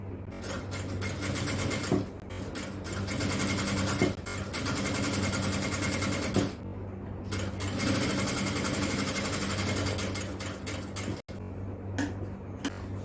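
An electric sewing machine stitches a jalabiya in steady fast bursts, its motor whirring and the needle chattering, with short pauses between runs, close and loud and without talk.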